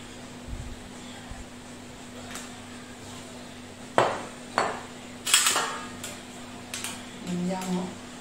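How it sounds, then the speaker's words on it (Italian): A metal baking tray for a potato gatto is handled in a home kitchen, giving a few sharp clattering knocks and scrapes midway through over a low steady background hum. "Ora prendo la teglia, metto un filo d'olio"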